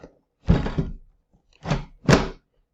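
Three dull plastic thunks in quick succession, close up, as the basket of a Power XL 7-quart air fryer slides and seats into its housing.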